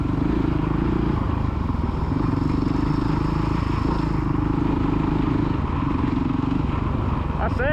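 A kids' motocross bike engine revs on the Astley MX main track, a loud sustained droning tone that dips briefly and rises again, with a voice calling encouragement over it.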